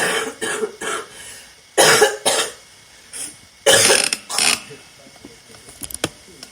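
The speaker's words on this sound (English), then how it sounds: "Coughing over you." Several harsh coughs in bursts, a couple of loud pairs separated by quieter pauses, close up.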